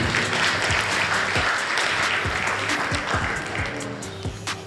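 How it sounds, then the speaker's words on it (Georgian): An audience at a grappling event claps in dense, sustained applause, loud and steady throughout, with a few individual sharp claps standing out near the end. "აპლოდისმენტები მეგობრებო."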